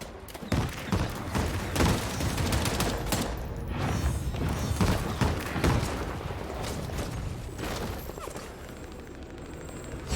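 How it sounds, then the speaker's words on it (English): Dense, sustained video-game gunfire rattles through the whole stretch, with overlapping bursts and thuds close up and loud, a firefight in an online shooter with no voices over it. "There's still people up and shooting at us, so be careful"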